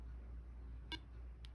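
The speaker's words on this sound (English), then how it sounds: "There'll be another beep" Short electronic beeps from an X2 Slim-P Bluetooth PTT button during pairing, two brief faint tones with a quiet gap between them over a low background hum.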